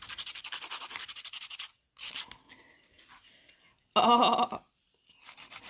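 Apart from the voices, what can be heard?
filing nails after applying nail forms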